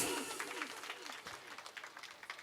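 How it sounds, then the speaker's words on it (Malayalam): A crowd gives quiet, fairly distant applause at the inauguration of ten rebuilt houses in Wayanad, with a run of steady rhythmic claps that carries on to the end. "ഒരു കൈയടി കൊടുക്കൂ പ്ലീസ്"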